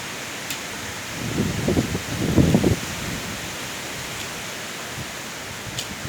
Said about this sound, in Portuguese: Dá uma olhada na força do vento.